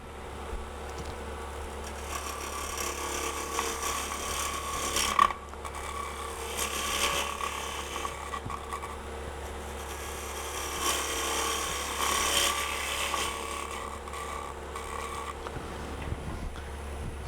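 A wood lathe turning a bowl while a gouge cuts the tenon, a steady low motor hum under a continuous scraping, chattering cut that swells and eases, close and unbroken by talk.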